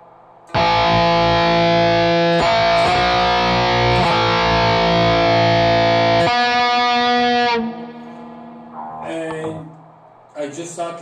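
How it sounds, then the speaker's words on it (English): Sustained chords on a heavily distorted electric guitar ring out loud and thick, changing a few times before fading into quieter picked notes. "Turn on my distortion pedal"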